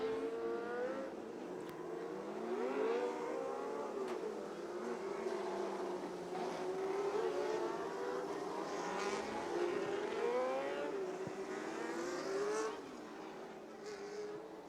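Race cars lap Delta Speedway in the final laps of a restricted main event. A continuous layered engine roar carries the whine of several cars sweeping past at varying pitch, fairly distant and steady throughout.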